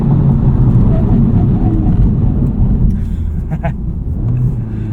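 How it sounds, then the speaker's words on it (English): A Honda Civic Type R FL5 under hard braking on the road gives a loud, steady roar of engine and road noise that fades slightly toward the end, with no voices over it. "Let's test out these brakes here real quick."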